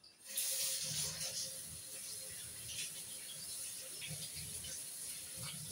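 Water runs from a kitchen tap in a steady, soft hiss after a brief squeaky start, fairly quiet and continuous throughout.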